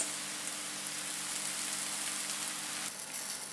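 Brinjal slices sizzle in oil in a frying pan, giving a steady, soft crackling hiss that runs throughout without speech.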